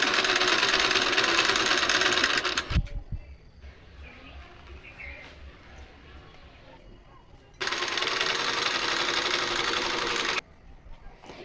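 An electric sewing machine stitching a quilt cover made from an old saree, two loud steady whirring runs of rapid stitching separated by a quieter pause with small handling sounds.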